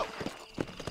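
A horse's hooves beat a quick, steady clip-clop in Red Dead Redemption, a few close hits within a second and not much else around them.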